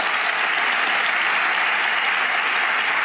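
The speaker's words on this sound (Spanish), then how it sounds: "ese aplauso que ha generado" Steady, dense applause from a large audience at a political speech about Catalonia, continuous and even throughout with no voices over it.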